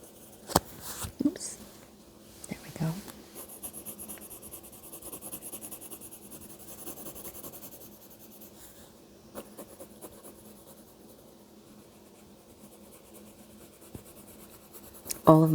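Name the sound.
pencil drawing on paper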